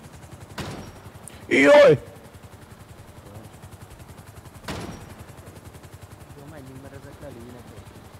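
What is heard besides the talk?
gunfire in the video game GTA V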